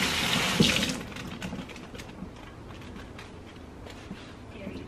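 Tomatoes rinsed under a running kitchen tap, water splashing loudly at first, then settling into a steady, softer stream with small clinks and handling noises, close by and without talk.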